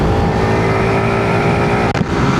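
Motorcycle engine straining under acceleration on the road while due for an oil change: loud, continuous close-up engine roar with steady wind rush, briefly dipping near the end, no talk.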